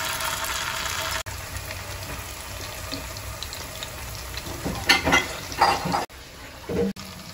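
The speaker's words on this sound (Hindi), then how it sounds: "अब बनाएंगे अमृतसरी फिश। इसको ज़्यादा तेल में, इसको एक्चुअली सैलो फ्राई करना होता है" Amritsari fish sizzling as it shallow-fries in oil like pakoras, a steady crackling hiss throughout with louder bursts of spitting and bubbling toward the end.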